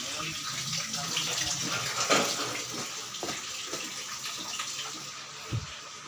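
Tap water runs steadily in a small island boarding house, a continuous splashing wash close by with faint voices in the background.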